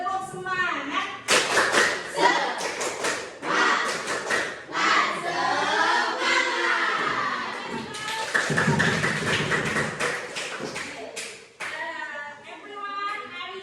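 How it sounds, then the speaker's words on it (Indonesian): A classroom of students performs the 'tepuk semangat' spirit clap, with chanting voices and loud patterned claps and slaps in quick bursts. "3, 2, 1, tepuk semangat."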